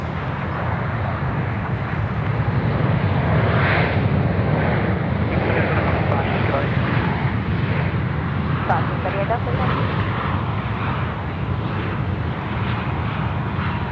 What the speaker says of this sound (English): There's one of the aircraft that came in this morning, turned around, ready to go already.